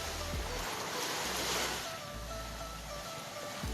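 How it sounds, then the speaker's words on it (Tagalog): Steady wash of ocean surf rolling onto the shore, a continuous broadband roar with gentle swells and some low wind rumble. "Yung alon."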